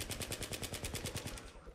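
Rapid automatic gunfire from the video game Battlefield 3, a fast, even burst of around a dozen shots, loud and close, trailing off at the end.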